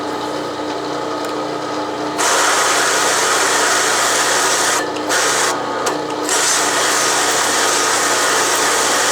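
A Logan metal lathe runs at slow speed in a home shop, giving a steady, fairly loud mechanical whir and hum that swells after a couple of seconds and holds with a few brief dips.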